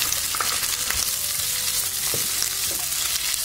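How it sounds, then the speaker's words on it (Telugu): Pieces of amla, Indian gooseberry, fry in a pan with lentils, giving an even, close and continuous sizzle with faint stirring scrapes and no voices. "ఇప్పుడు ఉసిరికాయ ముక్కలను కూడా వేయించుకోవాలి."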